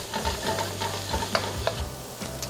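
Red onions and garlic stirred in a wok, a low steady frying sizzle with scraping stir strokes and a couple of sharp clinks, close and alone.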